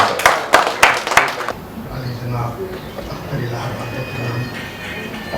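A brief burst of audience clapping at a mushaira poetry gathering in Mayur Hall, Juhu, a handful of sharp claps fading within a second and a half before a voice carries on alone.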